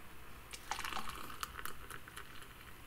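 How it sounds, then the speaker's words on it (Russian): A pomegranate cocktail, blended in a mixer, is poured through a small strainer, giving faint liquid splashes and drips with a few brighter trickling bursts in the middle. "Наливаем наш напиток чудесный."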